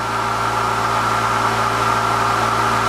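A prime mover engine drives a generator charging a battery at about 14 volts on a prototype test rig. It makes a loud, steady, continuous drone with a constant tonal hum and a broad mechanical hiss, close and unbroken, with no voices.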